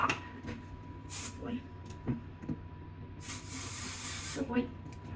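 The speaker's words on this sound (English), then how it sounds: "let's spray him a bit with this spray glue first" An aerosol can of spray glue sprays in two hissing bursts, a short one followed by a longer one, close up, with people talking softly between them.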